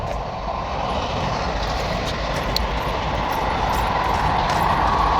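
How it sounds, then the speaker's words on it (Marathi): A passing train gives a steady, loud rumble that holds evenly from start to finish, heard from beside farm fields, with no talking. "ये रेल्वे आल्या"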